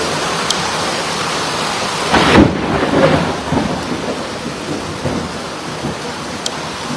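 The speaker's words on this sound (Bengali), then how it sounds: "আপনারা নিশ্চয়ই শুনতে পেরেছেন কি পরিমাণের বৃষ্টিটা চলতেছে, অনেক জোরে।" Heavy rain pouring steadily in Dhaka, a dense roar with a rumble of thunder swelling midway, loud and continuous with no voices.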